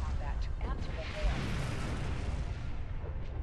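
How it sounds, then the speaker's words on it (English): A deep rumbling spaceship explosion rolls on steadily in Star Trek Online, with crackling debris and low booms filling the background of the game scene. "Probably should not be driving straight into an explosion"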